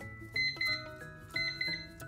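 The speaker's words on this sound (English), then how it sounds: "I'll set the timer 10 minutes, and then it'll ding" Classroom countdown timer sounding when the time is up: a quiet electronic ding heard in two repeated pairs of bright chimes, with no talking.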